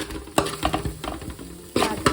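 Pepper, garlic, butter and chilli sauce sautéing in a pan, a close sizzle broken by repeated scraping and stirring strokes of a utensil against the pan, with no talk.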